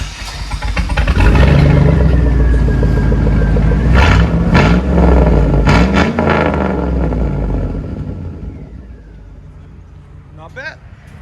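A 2002 Chevy Silverado 5.3L V8 with a muffler delete rumbles loudly and close, revving in several rising bursts before settling to a deep idle that fades, while a voice talks over the exhaust.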